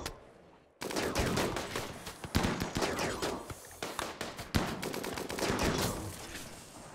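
Rapid, dense gunfire crackles through a deserter raid in the Empire faction expansion, starting after a brief quiet lull, then sustained overlapping bursts and single cracks that stay loud and close with no talking.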